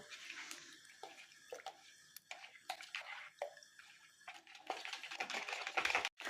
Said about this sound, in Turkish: terbiyemizi çok güzel tel çırpıcımızla çırptım